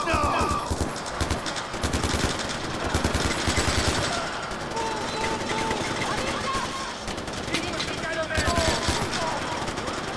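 Sustained rapid rifle gunfire in Far Cry 4, loud and close with dense repeated bursts throughout, while someone talks over the shooting.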